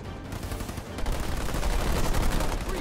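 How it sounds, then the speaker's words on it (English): Sustained rapid gunfire from ground troops in the Halo Wars 2 strategy game, a loud dense fusillade that swells after the first second and keeps crackling without pause, with no talk over it. "I'm under fire from ground troops!"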